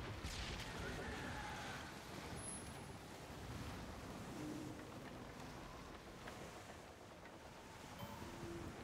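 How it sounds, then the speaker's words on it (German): Ocean waves surge and wash in the Skull and Bones naval video game, a steady broad roar of sea and wind running continuously, with faint voices mixed in. "Aber die Wellen sind hier auch der Hammer"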